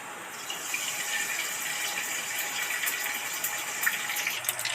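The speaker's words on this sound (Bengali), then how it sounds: "কড়াতে তেল দিয়ে দিচ্ছি।" Cooking oil poured into a hot karai (wok), a continuous close gushing, trickling sound throughout with faint crackles, no voices.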